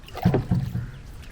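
A rowboat on Vembanad lake is pulled back through the water, with a few soft, dull knocks and water sloshes close by in a brief moment, no voices.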